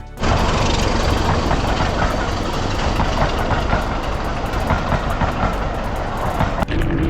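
A train passes close by, a loud continuous rumbling roar with rattling clicks that holds for several seconds before cutting off abruptly near the end.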